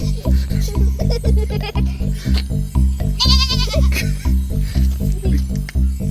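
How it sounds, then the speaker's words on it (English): Young goats bleat repeatedly over a steady rhythmic background, their wavering high-pitched cries rising clearly near the middle. "Check out these baby goats."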